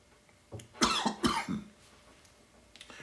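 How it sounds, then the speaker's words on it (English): A person coughs a few times in quick succession, close and fairly loud, then quiet follows with a faint throat sound. "if you hear me coughing, I'm also sipping on some water"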